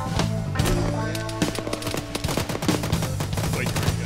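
High-explosive artillery rounds firing and impacting in ArmA 3, a cluster of sharp, rapid blasts and crackling reports over a low droning hum, with a voice faintly under the mix.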